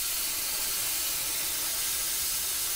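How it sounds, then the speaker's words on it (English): A handheld steamer used for winter car washing releases pressurized steam in a continuous loud hiss, steady and close, with no voices over it. "Getting steam out of that bad boy."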